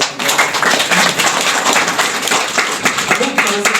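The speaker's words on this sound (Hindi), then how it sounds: "इनके एक ताली बजा दीजिए।" Audience clapping for village leaders (pahan baba) at a Sarna prayer gathering, a dense, sustained round of applause filling the whole moment at close range.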